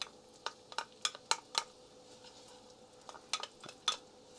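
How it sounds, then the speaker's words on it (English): Onions sautéing in a pot for Mexican meatball soup, with a faint sizzle underneath and a string of sharp spoon or utensil scrapes and clinks against the pot, clustered in bursts, close and fairly quiet. "Now in my pot here, I'm going to saute some onions."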